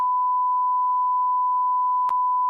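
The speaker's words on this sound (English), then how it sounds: "do you guys hear that beep?" A single steady electronic beep holds one pure tone for about two seconds, clean and alone, ending with a brief click.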